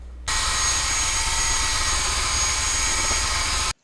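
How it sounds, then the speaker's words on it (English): Small buffing pad polishing the plastic headlights of an old toy ambulance with headlight polish, a steady, loud whirring drone that starts abruptly, runs unbroken and cuts off at the end, with no talking. "I'm using headlight polish because that's what I have, and this is the smallest buffing pad I could find."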